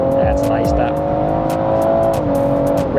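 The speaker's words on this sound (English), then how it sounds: "Revving to 7k as well." A Stage 1 tuned performance car engine holds a loud, steady, tonal drone at high revs, heard from inside the car. A brief dip comes near the end, and people talk over it.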